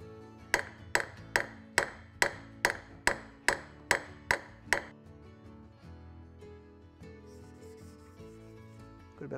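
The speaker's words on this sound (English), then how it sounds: "I'm going to move back to the heavier hammer and see if that moves much more metal" A heavier hammer taps the back of a steel plane blade ten times in an even, fast rhythm during ura-dashi. The sharp, close metallic strikes stop after about five seconds and leave a quiet workshop.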